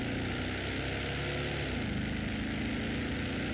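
A 1971 Mercedes-Benz W109 300 SEL 6.3 engine roars steadily and loudly as it accelerates, a dense continuous drone with a rising low rumble throughout.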